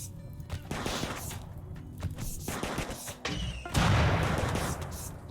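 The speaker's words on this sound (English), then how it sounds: "He appears to be rocking a incendiary launcher" Incendiary launcher firing in the video game RimWorld, heard as a run of thumping blasts and crashes over steady battle noise, with a heavier burst near the end.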